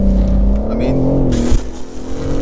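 BMW M4 CS engine revving hard as the car accelerates around a wet roundabout, a loud, rising engine note with gear-change dips, close up, while someone talks briefly over it.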